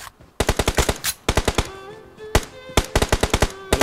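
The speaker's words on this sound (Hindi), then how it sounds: "अरे गोली चला रहे हैं।" Rapid automatic gunfire from a Free Fire battle royale match, with several loud bursts of closely spaced shots separated by short pauses, some single shots mixed in, and no talking.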